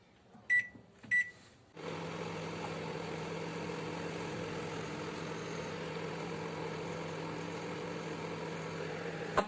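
A microwave oven heating a cotton pain-relief cushion hums steadily and fairly quietly, starting after two short beeps and running on evenly without talk.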